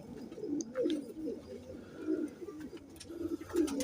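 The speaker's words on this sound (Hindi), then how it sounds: "आज आपके लिए मैं बड़े अच्छे कबूतर लेके आऊँ, चीने कबूतर" Cheeni pigeons cooing in soft, repeated low coos, fairly close, with a few faint chirps and background noise between calls.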